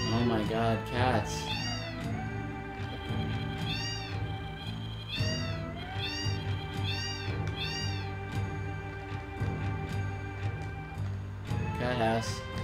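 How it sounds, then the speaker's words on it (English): Several cats meowing in the video game Square Bowl, repeated rising and falling meows in bursts over a steady background music tone. "Cats. Oh my god, cats."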